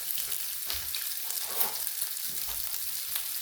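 Bacon strips sizzle and crackle in a pan over a good flame with space left between them, a steady close frying hiss broken by sharp pops throughout.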